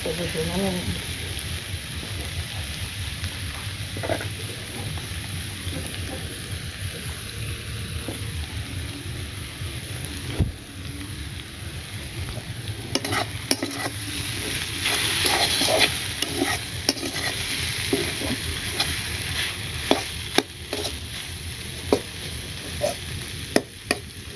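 Cumin seeds frying in hot oil and being stirred in a pan, a dense crackling sizzle with repeated scraping stirs that grows busier midway, and a voice speaking faintly underneath.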